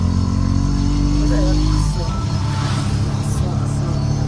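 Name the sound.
auto rickshaw ride with family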